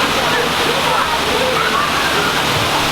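Steady, loud rush of the waterfall at the Canada Pavilion in World Showcase, a continuous broadband roar of falling water close by, with faint crowd voices blended underneath.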